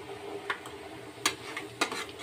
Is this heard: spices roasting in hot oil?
yes